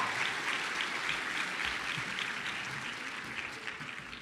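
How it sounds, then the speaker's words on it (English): Audience applause at a summer program closing ceremony, a steady wash of many hands clapping together that carries on for the whole stretch and fades slightly toward the end. "Let's give him a big round of applause"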